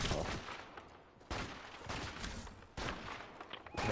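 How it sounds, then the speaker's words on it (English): Bursts of game gunfire crackle in several loud volleys, separated by short pauses, with no voices present. "Got more gunshots."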